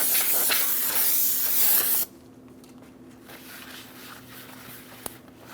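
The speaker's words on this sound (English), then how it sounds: "Use some parts cleaner and a clean rag for this." Parts cleaner sprayed onto a brake rotor during a rear brake job on a 2005-2010 Chrysler 300, a loud, close hiss lasting about two seconds and then cutting off, leaving a quiet background.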